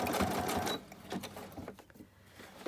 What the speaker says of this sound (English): So let me just stitch these on now.